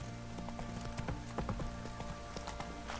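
Roach the horse trots in The Witcher 3 video game, steady hoof clip-clops falling in a quick regular rhythm over a constant low ambient hum, with no talking.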